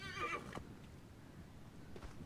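A horse in the video game Assassin's Creed Origins whinnies loudly for about half a second, followed by a faint snort or short nicker a bit later, with quiet hooflike clopping in the background.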